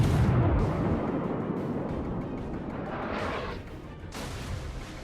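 Heavy naval gun salvo from the battleship Warspite in World of Warships opens with a loud low boom, then a long rumbling roar that slowly fades before a second burst of noise near the end.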